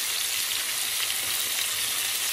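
Garlic frying in olive oil in a pan gives a steady, dense sizzle with a crackle that holds evenly throughout, close and fairly loud, with no voices.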